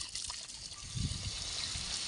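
A dog lapping up drinking water indoors at home, a soft wet trickling and slurping that runs continuously at close range, slightly heavier around the middle.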